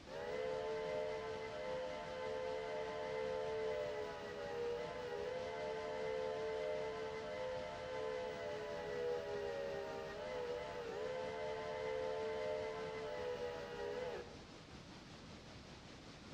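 A steam locomotive whistle in the Railroader train game blows one long, loud, steady harmonic-rich blast with slight dips in pitch, then cuts off near the end, leaving soft hiss and background rumble.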